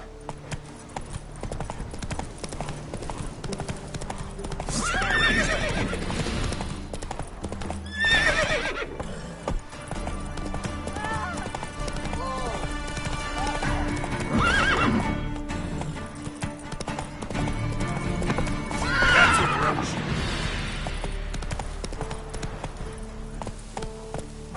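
Horse hooves clip-clop steadily at a walking pace in The Witcher 3, loud and close, with a horse neighing now and then over the rhythmic hoofbeats.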